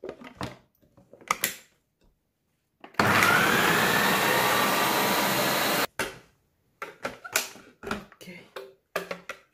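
A blender grinds frozen fruit into ice cream, one loud steady burst of about three seconds, with talk and kitchen clatter before and after.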